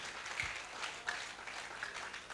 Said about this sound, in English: Keep clapping till she gets here, please.